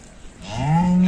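A bull among three cattle lets out one long, deep, rising moo, loud and close, building steadily in strength over a faint farmyard background.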